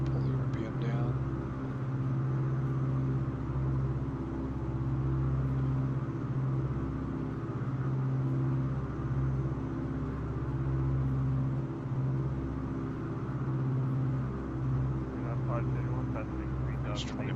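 Beech 18 twin radial engines droning steadily in a flight simulator, a continuous low throbbing hum that holds level throughout with a slight shift as the RPM is pulled back; a voice talks over it intermittently.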